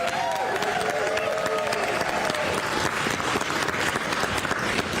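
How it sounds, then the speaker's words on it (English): Applause from a crowd at a state bill signing for a millionaires tax, loud and sustained clapping filling the room with some cheering and background voices throughout. "Give a round of applause to Speaker Jenkins for her leadership."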